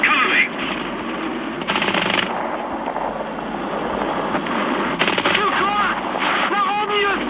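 Tank gunfire in a video game with Maus and M36 tanks: loud, continuous battle noise with repeated heavy shots and rattling bursts, while voices talk over it.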